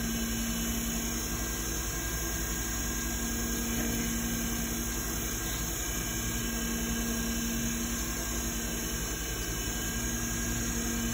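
Rotary tool spinning at about 3,500 RPM while polishing cured CA glue, a steady close high-pitched motor whine with constant tonal hum and no break throughout.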